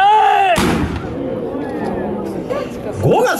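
Gunfire volley from an outdoor Hakodate War reenactment play, staged as a citizens' open-air drama: a shouted command, then a loud, sharp blast with a long echoing decay, and a second rising burst near the end.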